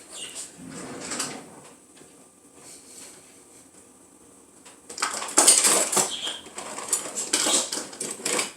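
Metal utensils clatter and jingle as someone rummages through a kitchen drawer for a whisk, a short rattle first, then a quiet pause, then a longer burst of clinking cutlery close by.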